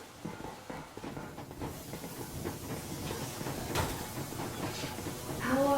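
The Yermak steam locomotive rolls along in Metro Exodus, a steady rumble with hissing steam and faint rail clatter, busy low-level noise building slightly toward the end, with game music and other sounds layered in.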